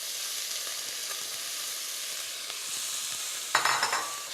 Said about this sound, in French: L'huile est chaude, je vais ajouter les poivrons rouges.